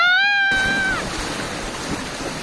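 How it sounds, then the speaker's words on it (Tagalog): A river in the Philippine hills near Ambang village with its current strengthened by rain: loud, broad rushing water, preceded by a brief high whistling tone at the start, with no talk. "lumalakas talaga yung agos dahil sa ulan"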